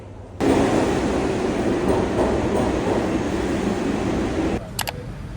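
Southbound B subway train running, a loud, steady rumbling roar from inside the car with faint rhythmic clatter, dropping off abruptly near the end followed by a couple of brief high chimes.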